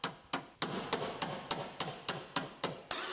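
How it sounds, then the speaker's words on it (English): Hammer and breaker chisel striking a Ram ProMaster City van panel to split spot welds: a steady run of about eleven sharp metallic blows roughly every quarter second, close and loud, with ringing after each hit. "So now we'll separate our welds with our breaker."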